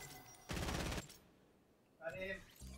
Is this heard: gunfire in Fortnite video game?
yes